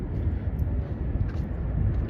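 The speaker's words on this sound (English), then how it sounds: "Look at this plane." An airplane at an airport produces a deep, continuous low rumble that swells and wavers slightly, heard from a distance without talk over it.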